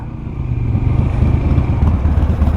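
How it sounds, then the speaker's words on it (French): Motorcycle engines rumble past at close range in Sainte-Croix-du-Verdon, a low throaty drone with rising revs and faint clatter. "il y a des motards en plus"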